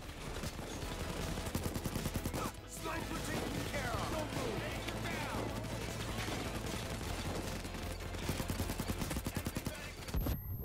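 Sustained gunfire in the VR video game Payday 2, dense rapid shots and bursts running almost continuously at close range, loud and busy throughout with a few sharper crashes mixed in.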